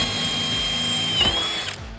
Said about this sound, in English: you're gonna get your drill, you're gonna come right in. We're gonna drill right there.